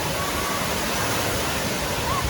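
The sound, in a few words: large water bucket tipping over at aquatic playground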